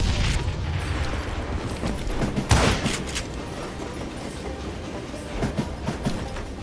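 Train rolling on rails in the western video game Call of Juarez Gunslinger: a steady, loud rumble with clickety-clack of wagons over track, a sharper metallic burst midway, continuous with no voices.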